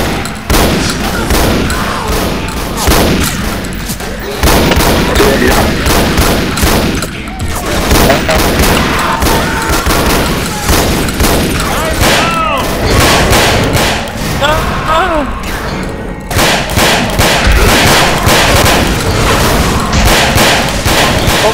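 A shotgun in a lagging online video game firing rapidly, a dense, loud barrage of overlapping blasts and thuds with scattered explosion-like booms, continuous throughout, with some talk mixed in.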